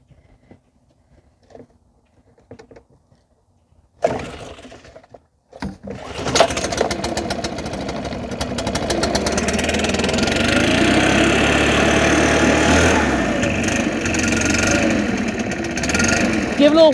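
A Stihl BR550 backpack blower's two-stroke engine is pulled a few times, catches and fires, then settles into a loud, steady running drone that holds to the end.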